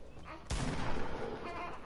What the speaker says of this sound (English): You get shot.